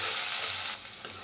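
Chopped tomato and a finely chopped green chili fry in a pan for chana dal, giving a brief, close, loud sizzle that drops off sharply near the end.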